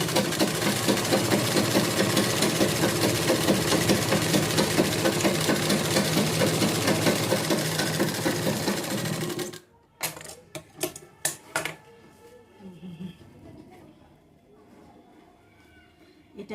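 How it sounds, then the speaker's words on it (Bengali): Domestic sewing machine running steadily as it stitches the edges of a homemade cloth bag, a loud continuous mechanical whir that stops abruptly around ten seconds, followed by scattered clicks and handling noises. "দেখো এটাকে আমি চাপ সেলাইটা দিয়ে নেব"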